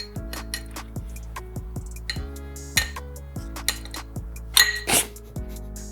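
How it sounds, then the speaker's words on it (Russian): A glass bottle is struck and clinked to pop it open as a lifehack, giving a run of sharp glassy taps and knocks over a steady low hum, with a louder clink cluster near the end. "Сейчас мы будем открывать вот эту бутылку"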